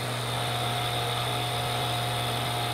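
A grinder with a diamond wheel grinding carbide, heard as a steady, fairly quiet high-pitched motor whine with a constant tone throughout and no talking.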